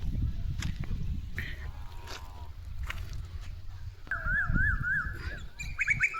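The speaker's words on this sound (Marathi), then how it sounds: "हे किती भारी पक्ष्यांचा आवाज येतोय" Several birds call and chirp in the open on a farm, with a repeated warbling trill toward the end over steady outdoor rumble and footsteps.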